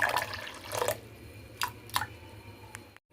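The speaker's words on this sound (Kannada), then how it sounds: "ಈಗ ಇದಕ್ಕೆ ನೀರು ಹಾಕೋಣ." Water poured over peanuts and fenugreek seeds in a kitchen vessel for washing, giving a few faint splashes and drips in short separate bursts, quiet and close with no talking.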